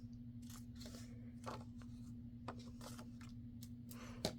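Scissors snip through paper in a series of short, crisp cuts, trimming small angles from sheets of 12x12 craft paper, quiet and close over a steady low electrical hum.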